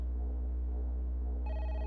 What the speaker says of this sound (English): That was a phone.